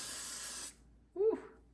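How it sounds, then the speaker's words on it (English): L'Oreal Infallible 3-second setting mist sprays in one bright, hissing burst lasting under a second, close to the microphone, followed by a brief voice and a short click. "we are gonna do L'Oreal Infallible 3-second setting mist"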